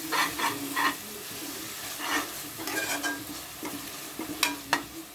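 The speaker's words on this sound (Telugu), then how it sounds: "ఇదంతా వేసుకుని మసాలా పేస్ట్ అంతా వేసుకుని తీసుకోవాలి" Curry leaves and masala paste frying in a pan, a steady soft sizzle with occasional stirring scrapes, close and fairly quiet, no talking.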